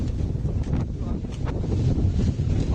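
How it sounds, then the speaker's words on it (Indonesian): Strong whirlwind gusts roar through a residential neighbourhood in Soreang, Bandung, buffeting the microphone with heavy, continuous low rumbling wind noise, loud and close throughout. "Kencangnya angin merusak sejumlah bangunan rumah warga."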